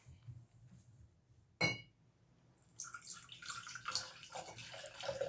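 Flat, 42-year-old Mountain Dew soda being poured out, a soft liquid splash and trickle building after a sharp clink, fairly faint and close.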